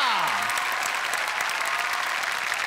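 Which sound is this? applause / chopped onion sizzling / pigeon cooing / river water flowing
applause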